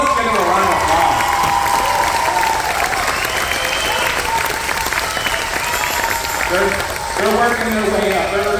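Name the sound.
concert audience applause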